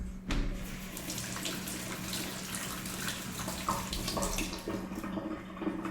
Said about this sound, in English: So I'm going to go ahead and wash the produce now.